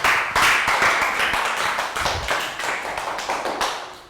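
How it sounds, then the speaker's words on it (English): A school class in a Year 3 health education lesson gives a round of applause for a student, a burst of quick, close hand clapping that gradually thins and fades. "Round of applause for Pak Bung."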